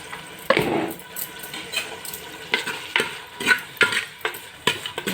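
Something fries in oil in a pan with a close, continuous sizzle, punctuated by a rhythmic series of spatula strokes and scrapes against the pan.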